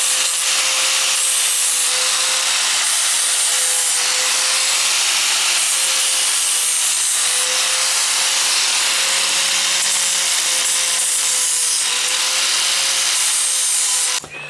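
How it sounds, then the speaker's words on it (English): An angle grinder works around a burred bolt on the rear end of a first-generation Ram truck, a loud continuous whining grind with a steady tone that holds for the whole stretch and cuts off at the end. "So I'm going to take my grinder, grind around it good, and it should slide on through."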